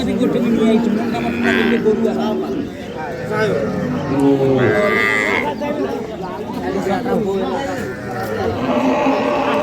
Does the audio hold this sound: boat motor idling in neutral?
no